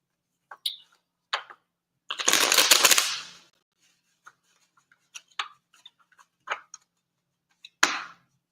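Tarot cards being shuffled, a dense riffling burst in the middle, surrounded by sparse light ticks and taps as cards slip and fall out, with one sharper slap near the end, close and quiet.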